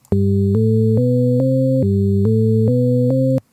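A synthesizer plays a short sequence of sustained chords, each held briefly before stepping to the next, clean and steady.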